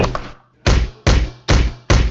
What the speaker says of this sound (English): So I then beat him with this bat.